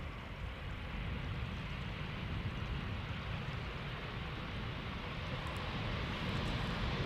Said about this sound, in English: This is an Embraer 190 arriving from Zurich, KLM flight 1954.